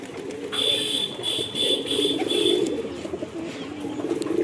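A red fullshira pigeon pair coos in low, rumbling tones under a sustained high electronic-sounding tone that stops partway through, the cooing continuing steadily to the end.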